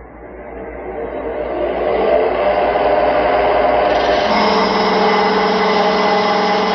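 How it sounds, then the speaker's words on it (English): Parting tool cutting a wood workpiece on a lathe, a steady rising whir and rasp that builds in loudness and then settles into a continuous hum, close and alone. "using this and my parting tool, I'll make a cut right at that transition"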